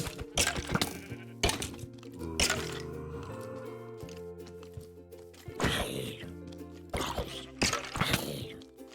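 Sheep in the Minecraft video game let out several loud, wavering bleats amid crisp game effects and a background music bed.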